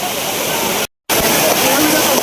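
A waterfall at Ozarde in Maval pours down from above. It makes a loud, dense, continuous roar close by, broken only by a brief moment of silence partway through.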